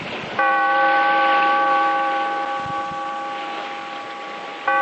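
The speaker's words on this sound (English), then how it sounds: "Bellkeeper, toll the bell." A deep bell tolls once, its ringing tone holding and slowly fading, then a second stroke sounds right at the end, in a 1944 radio drama. No voices.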